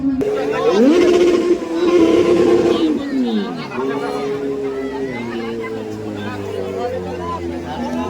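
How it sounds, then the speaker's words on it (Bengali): A motorcycle engine at a crowded playing field during the Pathri Golden Cup event revs up in a rising then falling whine and settles into a lower idle drone, with loud crowd chatter throughout. "সেই মোটর সাইকেলটা স্টার্ট করছে তখন দেখো"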